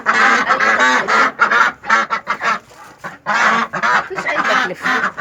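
Ducks quack loudly and repeatedly close by in a rural yard, with harsh honking bursts in irregular clusters and brief quieter gaps between them.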